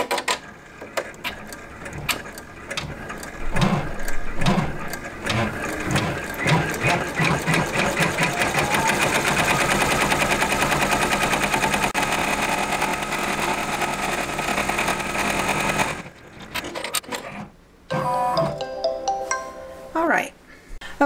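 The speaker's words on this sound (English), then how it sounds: "I'm gonna press the lock button and it's gonna do the final blanket stitch" A Brother PR1055 embroidery machine sews a final blanket stitch in a fast, steady mechanical chatter that runs for about fifteen seconds. It then stops, and a few electronic beeps and clicks follow.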